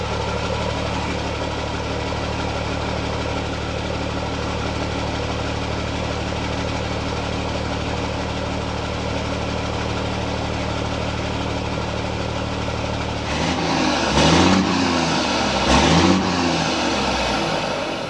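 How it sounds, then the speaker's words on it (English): A Freightliner Classic truck fitted with new heavy-gauge steel exhaust stacks idles with a steady, loud diesel rumble, then briefly revs twice near the end before settling. "Look at that exhaust coming out of it for the first time."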